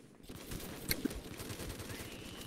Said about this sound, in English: I like the Vickers K because rate of fire.